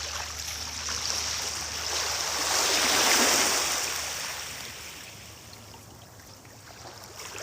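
Ocean waves wash up a beach in a broad hiss, swelling to a peak and then fading back, with no voices.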